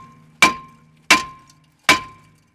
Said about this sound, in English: Double whack with a good hammer.